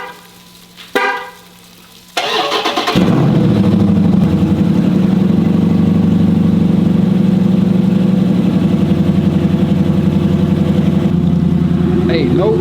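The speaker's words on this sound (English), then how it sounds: "let's go ahead and get the car started and show y'all boys how it sound in 30-degree weather with the snow" A Dodge Scat Pack cold-starts in snowy 30-degree weather: a brief crank, then the engine catches with a loud roar and settles into a steady, rumbling idle, with faint voices and a short sound before the start.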